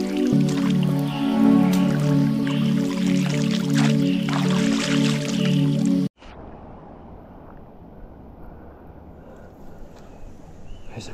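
Steady water sounds from a shallow stream in a dip spot, with a continuous churning splash and hum for six seconds, then an abrupt drop to a quieter wash of flowing water with faint wind.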